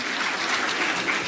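Steady, fairly loud applause from a crowd at a military school gathering, a dense wash of clapping with no voices over it.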